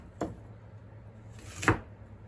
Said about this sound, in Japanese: で次に横に切るのは和包丁で一回横に切ります。